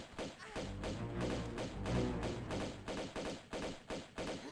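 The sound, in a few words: pistol gunfire in the Tomb Raider video game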